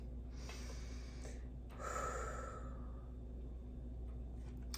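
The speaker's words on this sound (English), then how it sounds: "Let's take a deep breath." A single deep breath, drawn in and let out slowly, close and soft over a quiet room hum, with no talking.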